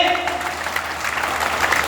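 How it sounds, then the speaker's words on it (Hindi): An audience at a speech in Akhnoor claps in a steady, dense round of applause that carries on throughout. "ऐसे लोगों को इतनी तालियां बजाइए"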